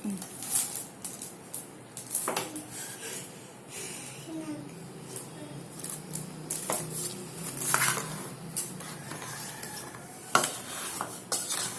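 Food is stirred in a Hawkins Futura 4-litre, 30 cm non-stick deep fry kadhai, with repeated scraping and clinking strokes and a light sizzle under people talking.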